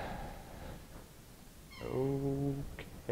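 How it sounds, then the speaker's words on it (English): A cat's meow plays during a university lecture on address translation, preceded by quiet room noise and followed by a brief higher squeak; no talk over it. "Cat is upset. Please make the cat happy."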